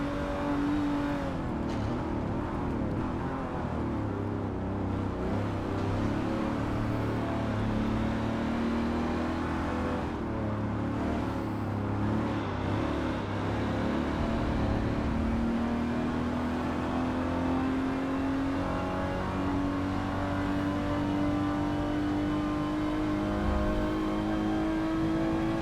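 Race car engines in traffic in Forza Motorsport 7, a continuous loud whine and drone of the player's car with rising and falling pitch as it accelerates and shifts, with other cars nearby and no speech.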